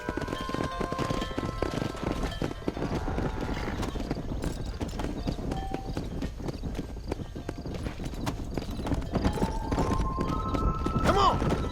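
Horse hooves galloping at a steady clip-clop rhythm in Red Dead Redemption while livestock is driven to pasture, with an occasional whinny and game voices over the hoofbeats.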